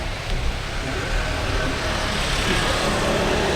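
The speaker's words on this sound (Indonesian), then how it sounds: "Itu ada bis shuttle untuk mahasiswa" A student shuttle bus on a Semarang university campus road, its engine rumble and tyre roar rising steadily as it passes close by, blending with surrounding traffic noise and a faint voice.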